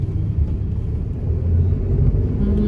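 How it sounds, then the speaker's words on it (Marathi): Low rumbling road traffic, a car engine droning steadily and swelling slightly louder toward the end, heard from inside or close by. "कुठे बघ रनिंग ट्रॅफिक आहे."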